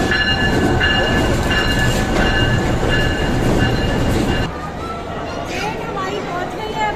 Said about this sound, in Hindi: ट्रेन हमारी पहुंच गई है, अब हम बस ट्रेन में बैठने लगे